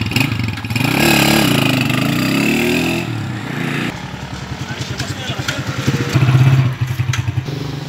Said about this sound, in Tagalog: I-road test na lang yung TMX na to